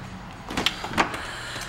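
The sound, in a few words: 2008 Audi Q7 power tailgate opening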